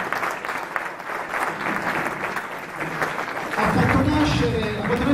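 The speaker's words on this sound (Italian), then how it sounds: "facciamo un applauso" A Christmas concert audience claps warmly for the maestro, a sustained wash of hand claps in a hall, with a low murmur and a voice rising under the applause toward the end.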